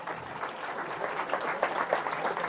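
A university session crowd at SRM Chennai claps continuously, a moderately faint, evenly sustained patter of many hands.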